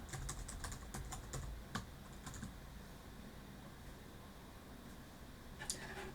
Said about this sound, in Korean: 다 지운 다음에 안녕하세요라고 입력해 보겠습니다.